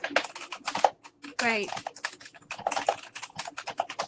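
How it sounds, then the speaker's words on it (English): Rapid clacking of computer keyboard keys during an online conference presentation, close and fairly loud, with a short spoken word partway through. "If you can make sure you're on mute if you're typing away, that'd be great."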